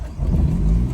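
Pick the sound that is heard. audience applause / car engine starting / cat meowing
car engine starting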